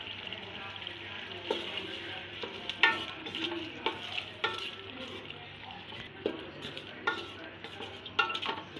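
Green chili paste sizzling in a pot for chana pulao, stirred with repeated scraping strokes against the metal at an irregular rhythm, close and moderately loud over a continuous fry, with no voices.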